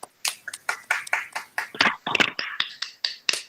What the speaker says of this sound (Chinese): 再次拍手鼓掌，谢谢他来。